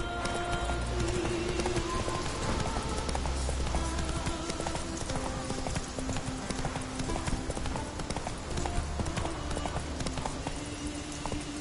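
Horse hooves clip-clop at a steady gallop in The Witcher video game, loud and continuous across the whole stretch, with a soft tonal game score underneath.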